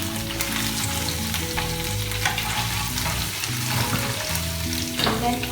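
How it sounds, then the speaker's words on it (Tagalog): Garlic sizzling in a pan for beef salpicao, a continuous close crackling fry with occasional stirring scrapes and soft clatter over steady kitchen hum. "we have to saute the garlic"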